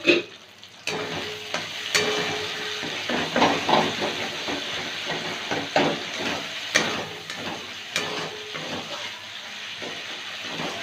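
Dal being stirred and sautéed in a pan, a continuous close hiss of frying with scraping spoon strokes and small clattering knocks throughout, no talking.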